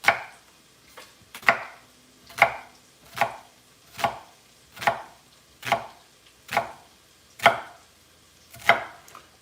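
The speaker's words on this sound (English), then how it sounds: "how is he chopping that onion?" A knife dices an onion on a cutting board, about a dozen evenly spaced thuds, close and clear with no talking.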